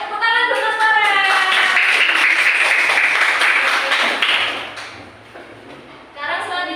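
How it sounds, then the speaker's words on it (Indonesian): Classroom applause for a student in a fourth-grade Indonesian lesson, a burst of children clapping together for a few seconds after a teacher's voice, fading out as talk resumes. "Tepuk tangan buat Mas Farel"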